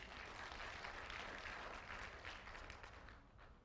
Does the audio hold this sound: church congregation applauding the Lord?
yes